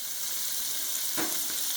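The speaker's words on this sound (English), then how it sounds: "These little sliders are going to be so amazing. Sizzle, sizzle." Steady, close sizzling of slider patties frying in a hot pan, a continuous hiss with a brief burst of louder crackle partway through.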